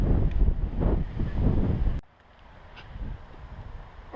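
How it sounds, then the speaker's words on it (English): Strong wind buffets the microphone at an outdoor skatepark, a loud rumbling roar for about two seconds that then drops to a quieter, gusty hiss. "It's really windy, so I don't know about the quality of the sound"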